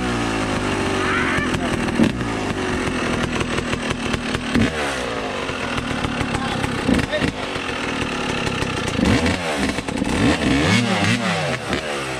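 Yamaha YZ250 two-stroke dirt bike ridden on trails, its engine revving and climbing continuously at close range, with rider talk heard over the motor.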